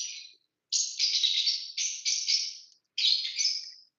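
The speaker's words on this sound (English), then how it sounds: "You hear my birds." Pet birds chirp indoors in a few clear bursts of bright, high tweets separated by short pauses, with no talking.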